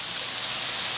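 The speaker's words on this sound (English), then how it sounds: "starting to sizzle up a little bit here" Vegan chicken pasta sizzles in a hot pan while crisping on top, a steady, even hiss of frying that holds at a constant level throughout with no talk.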